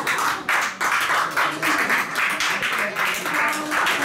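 An audience at a live music performance applauds, with bursts of clapping pulsing in waves at close range, the sound sometimes catching on the microphone.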